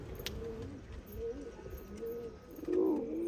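Pigeons coo inside a loft, several low, throaty coos repeating at a moderate distance with faint background rustle and no speech.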